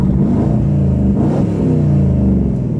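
A straight-piped Porsche Cayenne Turbo V8 engine revs loudly and close, with a deep rumbling exhaust note that rises and falls across a short burst.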